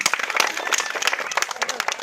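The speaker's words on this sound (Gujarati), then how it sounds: "આપણે એકવાર જોરદાર તાળી પાડી લઈએ" A live audience at a charity grain-kit distribution for Dang district forest-dwelling families claps for a donor family: dense, steady applause with overlapping hand claps across the whole stretch, fairly close and loud.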